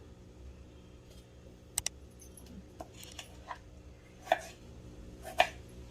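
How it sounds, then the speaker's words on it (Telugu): Knife chopping native tomatoes on a board for pickle, a few sparse sharp taps and clicks scattered over quiet background hum, fairly faint and irregular, no talking. "టమాటాలు కట్ చేసుకోవడం అయిపోయినాయండి"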